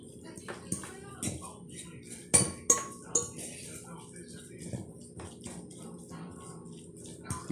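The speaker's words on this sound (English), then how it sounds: "we're going to add about 3 to 4 tablespoons of barbecue sauce. And you want to mix it well." Leftover pulled pork being stirred with barbecue sauce in a bowl, giving quiet wet clinks and scrapes of a utensil at irregular intervals, with a few sharper knocks against the dish.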